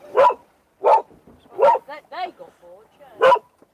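Several dogs bark in short, loud single woofs spaced about every second inside a bargain store, with a person talking between the barks.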